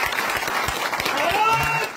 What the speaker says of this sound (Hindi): जो उधर तालियों से उनका स्वागत किया।